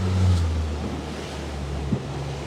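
Water lapping and sloshing against a small rowing boat at sea off Saint-Malo, with blustery wind noise over the microphone and a steady low rumble.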